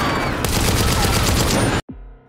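Sustained gunfire in a woodland shootout from a Peaky Blinders film scene, a loud dense burst of rapid shots lasting under two seconds, cut off abruptly and followed by a brief low descending tail.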